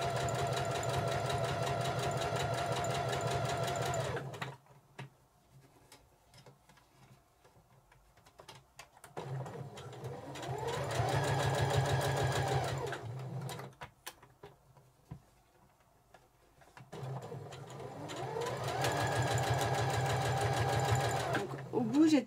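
Sewing machine stitching a cotton fabric cord made from a scrap, heard in three separate runs of steady stitching with quiet gaps between, close and fairly soft.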